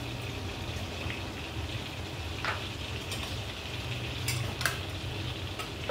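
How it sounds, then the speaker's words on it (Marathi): Cumin seeds fry in butter, making a soft, steady sizzle with scattered light crackles and pops on top, faint and continuous with no voices. "आता इथे घालतो आहे आपण बटर. यामध्ये घालतो आपण जिरं."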